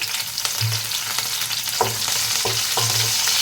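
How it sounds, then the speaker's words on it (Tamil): Garlic, curry leaves and two chopped green chillies frying in oil for a Tamil-style potato masala, a steady sizzle with several brief stirring scrapes close by and no talk. "எல்லாத்தையுமே வந்து ஆயிலில் 1 நிமிஷம் நல்லா வதக்கிக்கலாம்"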